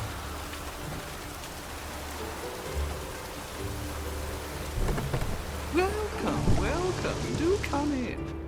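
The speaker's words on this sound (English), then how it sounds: "Looked like it would rain, and here it is." Steady rain pours in The Witcher 3, joined by rolling thunder rumbles and a scatter of bird calls toward the end.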